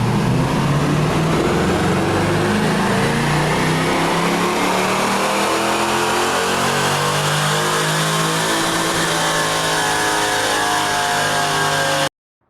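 A car engine on a dynamometer set to 28 degrees of ignition timing revs steadily upward through a single long, loud pull, its harmonics climbing for about twelve seconds before cutting off abruptly.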